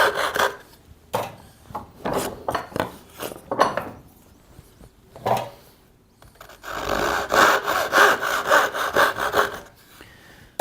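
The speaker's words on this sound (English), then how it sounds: "we're going to use the crosscut saw to cut off these two end pins" A crosscut hand saw cuts off the two end pins of a wooden dovetail joint: rhythmic rasping back-and-forth strokes, close and loud, with short pauses before a faster, steady run of strokes.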